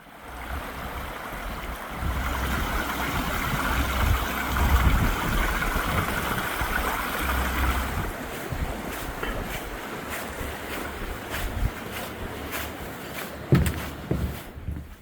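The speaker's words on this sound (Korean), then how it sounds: "물소리가 제법 큽니다." A valley stream rushes beneath a pedestrian suspension bridge in a city, giving a steady, fairly loud broadband wash of flowing water with some wind buffeting, and no talk over it.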